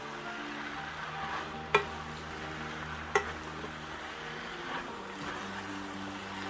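Vegetables and glass noodles for dry suki stirred and fried in a small wok, a steady low sizzle with a couple of sharp scraping clacks of the utensil against the pan, no talk.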